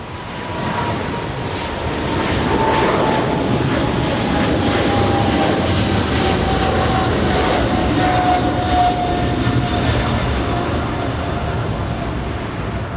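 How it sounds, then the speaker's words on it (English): A ten-year-old Boeing 777 airliner taking off from Los Angeles International Airport bound for Heathrow, a loud jet engine roar that swells and holds steady with a rising whine, heard from the airfield. "All right, there goes the 777 out of here."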